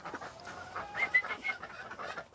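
Chickens and ducks in a backyard coop beside a vegetable garden give off faint, scattered clucks and squawks. The calls are soft, fairly distant and overlap one another in a loose, irregular chatter.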